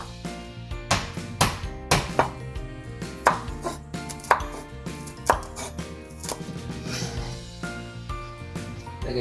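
A knife chops garlic on a cutting board in a home kitchen, a steady run of sharp, close, fairly regular thuds spread over about nine seconds, with no talking.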